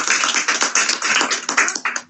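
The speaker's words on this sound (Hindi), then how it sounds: "जोरदार तालियां बजाएं" A congregation at a church service claps loudly and rapidly in dense, close, crackling bursts that stop abruptly at the end, with no voices heard.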